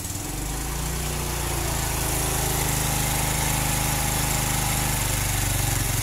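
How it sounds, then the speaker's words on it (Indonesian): A Honda Revo Absolute motorcycle engine with a freshly adjusted standard carburetor runs near and loud, a steady buzzing drone that holds at high revs without a break. "para brother bisa didengar nanti suaranya ketika suara RPM paling tinggi"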